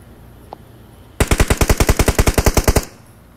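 Rapid automatic gunfire in PUBG Mobile zombies mode: a single burst of about fifteen evenly spaced, loud, close shots lasting under two seconds, with faint background before and after.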